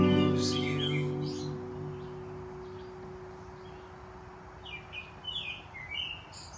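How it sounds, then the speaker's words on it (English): Small songbird, a wren, singing outdoors at a manor garden in summer: a few brief high chirpy phrases, fairly faint and distant, over a steady low hum. "Cue the wren."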